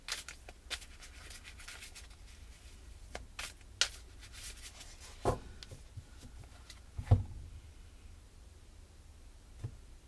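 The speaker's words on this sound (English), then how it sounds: "I'm going to shuffle both decks so I don't have to stop in the middle of the reading to shuffle." Quiet, sporadic riffles and soft clicks of two decks of cards being shuffled nearby for a reading, with short bursts separated by pauses and a faint hiss underneath.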